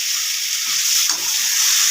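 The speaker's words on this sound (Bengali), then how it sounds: "আমি এর মধ্যে ভাজা ডিমগুলো দিয়ে দেবো" Fried eggs sizzling in oil in a pan make a loud, constant close-up hiss with faint low stirring movements underneath.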